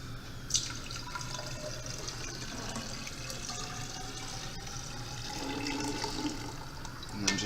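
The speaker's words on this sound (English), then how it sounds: "you're going to transfer the slurry into it" Soil slurry poured into a 1000 ml glass cylinder for particle size analysis, giving a soft continuous trickling and splashing of liquid that swells slightly toward the end, fairly quiet and alone.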